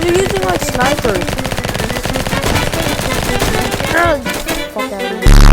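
Rapid, continuous minigun fire in a capture-the-flag shooter game, a loud sustained mechanical rattle of shots that runs almost the whole time and briefly cuts out near the end.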